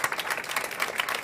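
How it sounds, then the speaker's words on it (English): Brief burst of audience applause for panel speakers on a real estate innovation stage at a startup summit, a dense wash of many hands clapping that swells and holds for about a second. "big applause for these guys"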